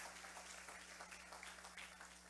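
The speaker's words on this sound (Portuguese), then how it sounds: "Dá uma salva de palmas pela vida da irmã Márcia." Church congregation clapping during a worship service, a steady wash of applause from many hands, distant and fairly faint, with a low electrical hum underneath.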